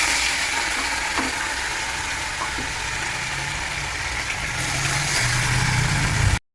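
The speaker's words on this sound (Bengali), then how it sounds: "এখন মাছটা ছেড়ে দেবো ভাজা" Fish rubbed with salt and turmeric frying in hot oil in a kadai, a constant close sizzle with a low rumble underneath, no voices, ending abruptly.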